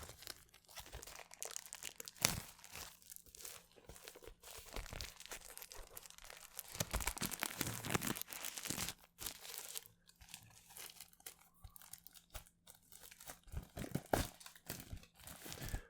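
Paper or plastic wrapping on a parcel of library books is torn and crinkled open by hand in a quiet room, giving bursts of crumpling and ripping with short pauses between them.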